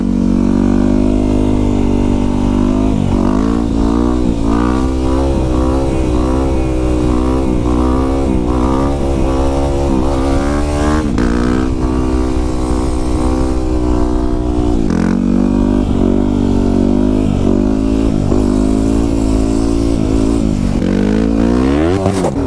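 A quad bike engine revs hard and steadily through wheelies, loud and close. The pitch climbs and falls again and again as the throttle opens and backs off, with no talk throughout.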